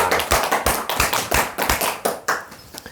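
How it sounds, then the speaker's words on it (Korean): Audience clapping in a Buddhist dharma talk hall, a brisk run of individual hand claps at moderate loudness with no talking over it. "큰 박수 부탁드립니다"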